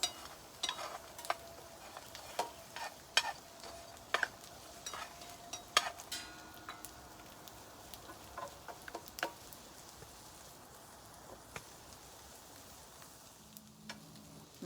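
Hash browns frying on a camp stove inside a hot tent in a cedar forest, a steady soft sizzle with scattered ticks and scrapes of stirring, heard alone without talk.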